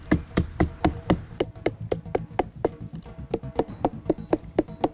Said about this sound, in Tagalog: pinupukpok niya ang parteng ito ng puno.